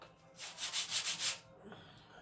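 Several quick strokes of sandpaper on a wooden model boat hull, a rhythmic rubbing scrape repeated about five times close up, then it stops.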